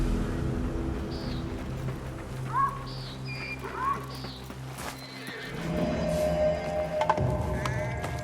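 Horses in the video game Assassin's Creed Mirage whinny and clop their hooves amid birdsong, set in Baghdad, with a close, steady hoofbeat and neighs rising over ambient rumble.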